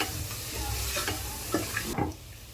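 A spoon stirs chilli powder and turmeric through a frying pan for chicken gravy, with soft scraping and a gentle sizzle, a few clinks near the end, quiet and close.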